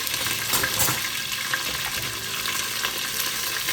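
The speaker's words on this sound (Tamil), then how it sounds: "வெந்தயம் கொஞ்சம் பொரிஞ்ச உடனே நம்ம கருவேப்பிலையே போட்டுக்கணும்" Fenugreek seeds and curry leaves frying in hot oil give a steady, close, bright crackling sizzle with scattered pops, running evenly throughout and heard alone.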